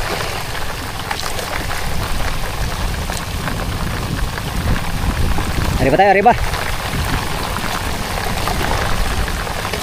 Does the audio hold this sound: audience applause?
no